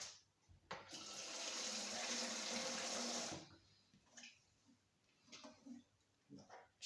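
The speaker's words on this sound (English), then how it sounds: "I'm just going to put some water in it" Water gushes into a carpet cleaner's tank from a tap for a few seconds, a loud steady rush that cuts off, followed by quieter clunks and a person speaking briefly.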